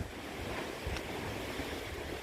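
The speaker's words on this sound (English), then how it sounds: "It is super windy, which I'm sure you can hear." Strong wind blows steadily outdoors, a dense, unbroken rushing roar that buffets the microphone with brief low thumps.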